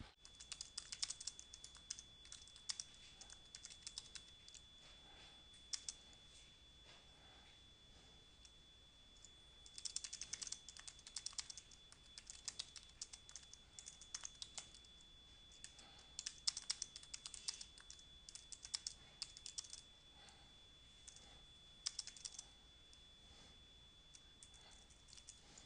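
Steady typing of code on a computer keyboard, with irregular runs of close, soft key clicks and short pauses over a faint constant background hum.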